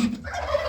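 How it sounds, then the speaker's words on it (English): Turkeys gobble on a farm that keeps Berkshire pigs and poultry. One short, fairly loud gobble sounds close by. "good God, those turkeys."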